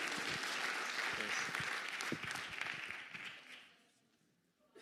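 Audience applause at a church baptism service, dense clapping from a crowd with a few louder individual claps, fading away toward the end into near quiet.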